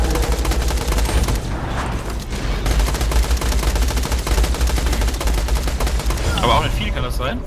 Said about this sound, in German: du musst ins Gesicht schießen und nur ins Gesicht